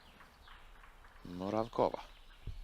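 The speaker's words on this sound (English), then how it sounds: "you can really hear those birds singing behind them" Birds chirp faintly in the background on a calm morning at a disc golf course while someone speaks close up over them.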